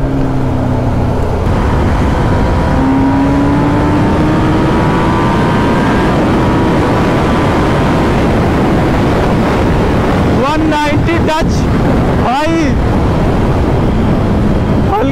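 A Honda CBR motorcycle is ridden flat out at around 190, with loud, continuous wind roar buffeting the microphone and faint engine tones beneath. Sharp passing-vehicle sweeps cut through near the end.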